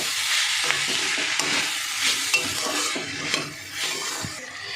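A spoon stirs vegetable spring roll filling with spring onion and coriander in a sizzling pan, steady frying hiss under repeated scraping and clinking strokes, close up with no talk.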